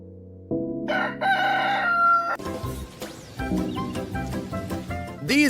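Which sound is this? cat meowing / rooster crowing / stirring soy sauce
rooster crowing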